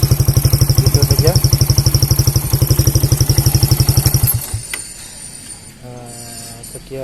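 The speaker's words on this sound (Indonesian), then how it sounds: "Ini motor Suzuki belangnya CJ Epo, kita tes." A Suzuki Belang Satria FU motorcycle fitted with a turbo whistle idles close and loud in rapid, even pulses under a thin high whine, then the engine shuts off, leaving quieter clinks and rattles.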